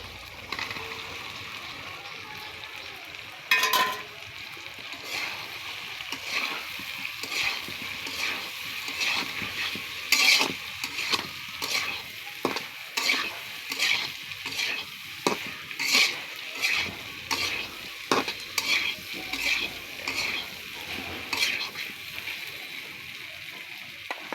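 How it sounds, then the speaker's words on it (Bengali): Cut rohu fish roe frying and being stirred with spices in a pan, a continuous soft sizzle broken by regular spatula scrapes and knocks against the pan. "এখন আমার কেটে রাখা ডিমগুলো দিয়ে দেব।"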